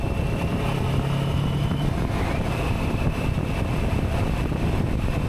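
A Kawasaki Versys 650 LT motorcycle, 2023 model, heard while riding: a steady, loud engine drone mixed with rushing wind noise, continuous with no breaks.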